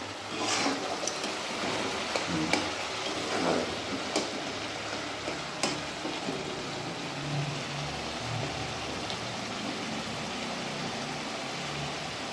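Tomatoes frying in hot oil in a home kitchen pan while making a pabda fish curry with coriander, giving a steady, even sizzle with a few sharper crackles and spits, close and moderately loud, with no talking.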